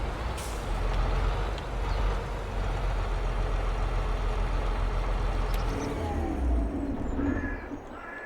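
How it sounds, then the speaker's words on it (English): Truck engine in Farming Simulator 22 rising in pitch as it speeds up and shifts gears, a loud, continuous drone with an air-brake hiss near the end. "you can hear the engine revving here as it speeds up and changes gears"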